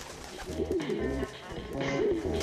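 A pigeon in the video game Jazzpunk coos in soft throaty bursts, twice over a couple of seconds, against a busy background of game ambience.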